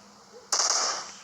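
Enemy gunfire in the mobile battle-royale game PUBG Mobile: one sharp, loud burst breaks in abruptly partway through, then fades over a short tail with no talking.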